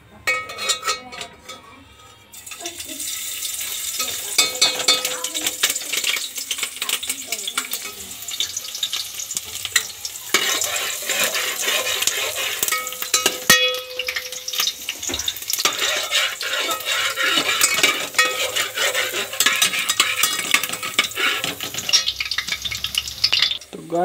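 Chopped garlic sizzles and crackles steadily in hot oil in a home kitchen pan, a continuous close frying hiss lasting the whole stretch with occasional stirring clinks.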